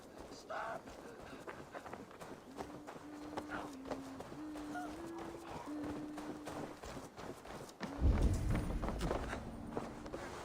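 Hoofbeats of a horse in Assassin's Creed Valhalla, running steadily and then galloping away, with a loud burst near the end and a voice speaking over part of it.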